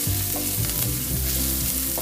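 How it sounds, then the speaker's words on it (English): Garlic paste and cumin seeds sizzle loudly in hot oil, a close, continuous frying hiss broken by quick stirring scrapes, with nobody speaking. "add the garlic paste, saute for around 30 seconds."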